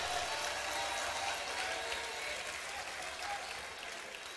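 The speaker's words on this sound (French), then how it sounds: "Je voudrais qu'on applaudisse l'entrée du président de l'Assemblée nationale, M. Mbosso Kodia." Broad, steady applause rises from an audience at a party congress closing ceremony as the president of the National Assembly enters, a continuous wash of many hands heard from some distance.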